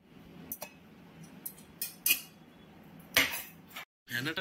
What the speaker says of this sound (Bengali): মা কেটে নিচ্ছে হচ্ছে বিনস গুলো।